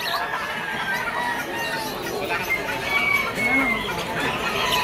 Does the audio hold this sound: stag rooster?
yes